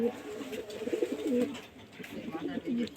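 Pigeons cooing close by in a loft or cage, a steady run of low, rolling coos that repeat through the whole stretch, while someone talks now and then over them.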